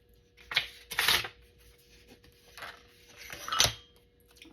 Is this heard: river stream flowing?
no